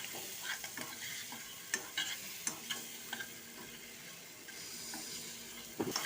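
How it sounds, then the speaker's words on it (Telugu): Eggs frying in oil in a pan with chili powder and salt, a continuous close sizzle with repeated scraping stirs and small clatters, no talking. "ఇవి ఇట్లా ఆయిల్లో వేపుకోవాలి మంచిగా ఎర్రగా వచ్చే వరకు."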